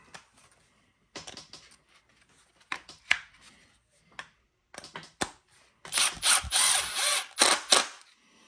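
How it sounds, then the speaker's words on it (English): Rear bulkhead of a Traxxas Xmaxx RC truck being screwed down, with scattered small clicks and ratcheting taps, then a louder burst of driver whirring near the end, close and without speech. "And then just screw it down."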